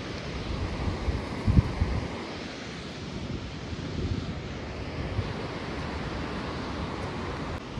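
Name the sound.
stream of snowmelt water flowing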